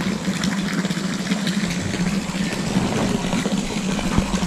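Water pouring into a resort swimming pool at a mountain farm resort, a continuous gushing rush with a low pump-like hum underneath, close and steady throughout.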